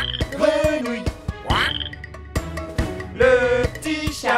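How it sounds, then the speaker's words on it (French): A frog croaks in a children's nursery rhyme. The croaks come loud and repeated in uneven bursts, with no talk over them. "La grenouille, grenouille, grenouille."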